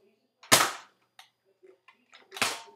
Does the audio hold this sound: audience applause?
no